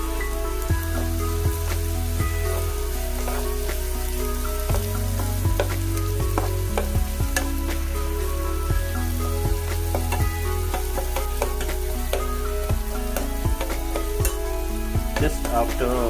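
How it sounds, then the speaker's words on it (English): Onions fry in a pan of oil for a Gobi Manchurian sauce, giving a constant close crackling sizzle with scattered pops. A steady low hum underlies it. "We have the onions in. Allow it to fry"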